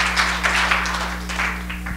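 A church congregation claps hands in uneven bursts over a steady low hum, moderately loud and fairly close.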